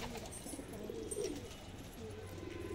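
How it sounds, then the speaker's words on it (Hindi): Pet pigeons coo steadily close by after being released from their loft, soft rolling calls repeating through the whole stretch with a low background rumble. "तो दोस्तों हमारे कबूतर खुल चुके हैं गोले, तो पहली हवा तो हो गई है।"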